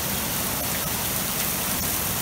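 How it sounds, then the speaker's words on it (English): Hail falls steadily during a storm near a mud flow at Lake Elsinore, a dense, loud, continuous hiss of pelting ice with a few sharper impacts. "But yeah, it's hailing."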